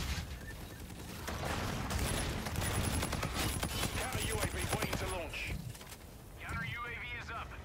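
Rapid automatic gunfire fills a Call of Duty Search & Destroy match in dense bursts. Bright metallic clinks and in-game effects sit on top, and excited players talk over the action throughout.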